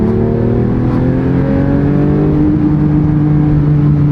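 A crash-damaged Porsche 911 GT3 engine held against a limp-mode rev limit, a loud sustained droning rev with a pitch that slowly sags and then holds steady, close by, with no talking.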